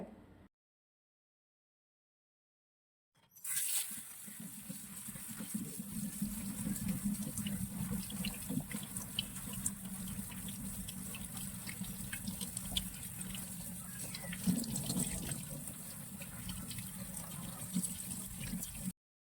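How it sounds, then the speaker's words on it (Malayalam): Picked green leaves are rinsed in running water from a tap into a sink, giving a steady splashing wash that starts after a few seconds of silence and continues without talk. "ഇനി നല്ലപോലെ ഒന്ന് കഴുകിയെടുക്കട്ടെ"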